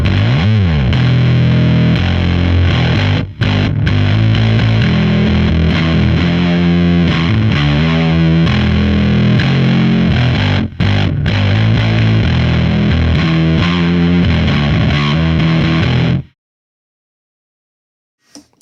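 Electric guitar played through a KHDK fuzz pedal, loud and thick with heavy saturated distortion, strummed continuously with two short breaks before cutting off abruptly into silence.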